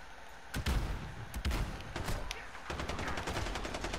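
Sharp pistol shots crack out in quick pairs in a Call of Duty Modern Warfare firefight, then a denser run of rapid shots follows, all loud and close over a busy game backdrop.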